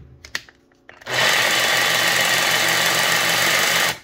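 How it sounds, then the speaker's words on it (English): Makita jigsaw cutting with the pendulum setting off: a brief clatter, then a sudden loud, steady motor whine and blade buzz running for about three seconds before stopping abruptly. "start your jigsaw off on straight up and down, and then slowly increase the pendulum to help increase the speed of your cut"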